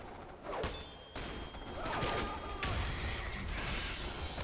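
Troopers firing in Starship Troopers: Terran Command, a dense crackling fusillade of overlapping shots with mechanical clatter, building up and holding steady.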